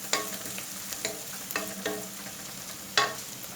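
Ginger and green chillies sautéing in a pan, a soft low sizzle broken by a few distinct spatula scrapes and stirs, close and fairly quiet.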